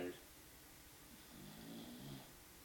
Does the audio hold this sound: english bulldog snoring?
yes